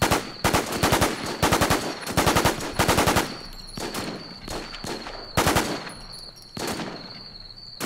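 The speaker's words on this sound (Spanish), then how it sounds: "Me está disparando." Rapid bursts of machine gun fire from the online zombie survival shooter The War Z, several loud sustained volleys separated by short gaps, alone with no talking.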